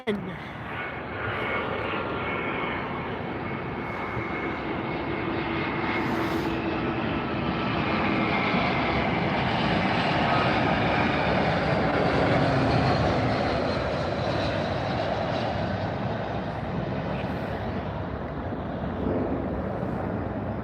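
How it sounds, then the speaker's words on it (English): American Airlines Airbus A321 jet on arrival at Miami airport, a steady, loud broadband engine roar that rises slightly and holds throughout, with faint voices beneath it. "This is American Airlines Flight 3049 and Airbus 321."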